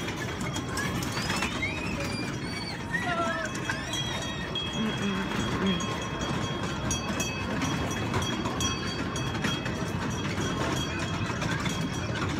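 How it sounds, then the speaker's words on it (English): A train rolls past near a mall, a continuous rumbling clatter of rail cars held steady throughout, with high squeals and chirps over it and birds cooing faintly in the background. "Look, babe, it's a train!"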